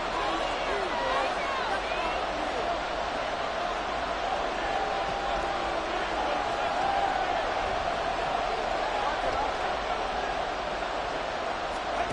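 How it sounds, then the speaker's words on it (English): Loud stadium crowd at an American football game in the fourth quarter, a dense, constant roar filling the whole stretch, with commentators talking over it. "this crowd making it hard to hear"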